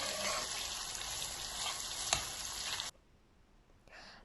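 Meat sizzling loudly as it fries in hot melted butter, a steady broadband hiss that cuts off abruptly, followed by near silence and a faint later stir.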